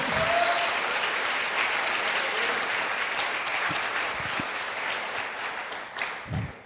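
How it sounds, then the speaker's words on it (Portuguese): Church congregation applauding during a worship service, dense sustained clapping that fills the room at steady loudness, with a few faint voices and low thumps near the end. "Você que crê, dá um aplauso a Ele bem forte."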